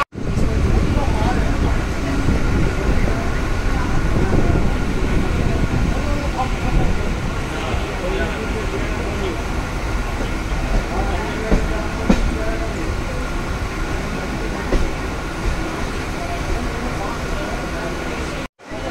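A train pulls out of Dum Dum Cantonment station, a continuous loud rumble and rattle of carriages heard from on board, steady throughout with faint voices beneath.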